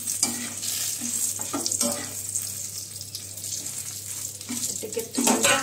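Eggplant pieces stir and fry in a pan of hot tempered mustard oil, giving a steady sizzle with intermittent scraping and clinking of a spoon, close and fairly loud.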